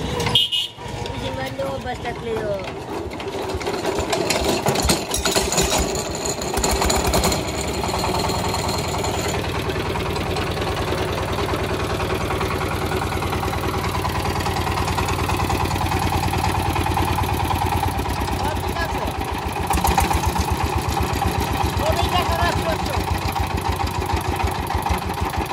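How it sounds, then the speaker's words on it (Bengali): An old Chinese-made diesel engine of a few horsepower is cranked to life with a sharp burst, then settles into a steady, close chugging idle that runs on evenly while someone talks over it. "আপনাদেরকে স্টার্ট করে ইঞ্জিনের সাউন্ড কোয়ালিটিটা শোনাই"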